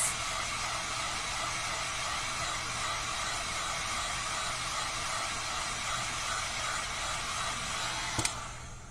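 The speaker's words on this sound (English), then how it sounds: "a heat gun will dry those faster than anything else" Heat gun blowing hot air over freshly sprayed rainbow paint, a steady quiet hiss holding for several seconds before a brief click near the end.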